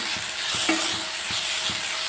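A tomato stuffing seasoned with salt, turmeric and chili powder is stirred in a hot pan, giving a steady soft sizzle with faint rhythmic scrapes of a spoon, close and even throughout.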